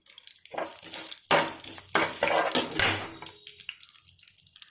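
Curry leaves, dried red chillies and turmeric go into a pan for potato fry, with bursts of sizzling and clattering stirring against the pan, loud in the middle and fading to quiet at the end.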